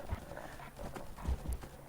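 Horse hooves clip-clop faintly and unevenly along a road in a video game set in wild country, a few soft thuds scattered under a low, muffled ambient background.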